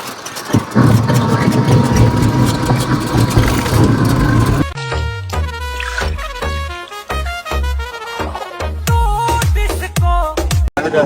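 An easy bike, a battery auto-rickshaw, rolling along a road near a bridge and trees, giving a steady close rumble of motor and road noise for about five seconds before brighter tonal sounds take over.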